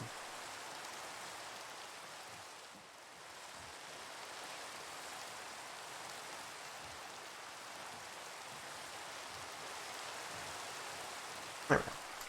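Steady rain in Minecraft, an even hiss of falling drops that holds for the whole stretch, with one brief sharp click near the end and no talking.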